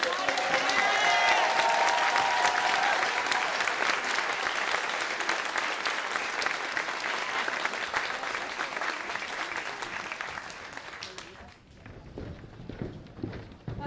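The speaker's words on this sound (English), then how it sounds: "let's give them one more round of applause" Loud, dense audience applause fills a fashion show venue, sustained for about eleven seconds before tapering off sharply, leaving quieter room noise.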